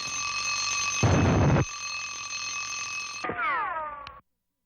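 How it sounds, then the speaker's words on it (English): A ringing alarm clock in a 1959 cartoon sounds loud and steady with bright metallic bell tones, a burst of noise mid-ring, then a descending warbling tone as it winds down and stops abruptly. "the alarm went off"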